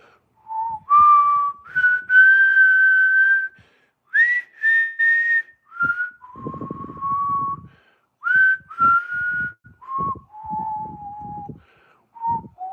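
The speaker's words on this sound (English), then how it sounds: "I wish I could whistle the theme song from Predator." A man whistles a melody meant to be the Predator movie theme, in sustained held notes and short phrases that rise and fall, clear and close, with faint handling noise between phrases.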